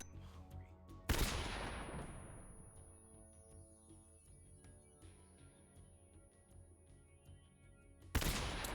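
Stun grenade from Metal Gear Solid 3 bursting in-game, a sharp loud blast that rings and decays over a few seconds, followed by another burst near the end, no talking.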